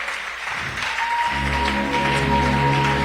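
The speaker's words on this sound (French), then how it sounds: "Est-ce qu'on peut acclamer Jésus?" A church congregation in a French-language service applauds and cheers for Jesus. Sustained clapping and cheering rise and swell into a continuous roar that lasts throughout.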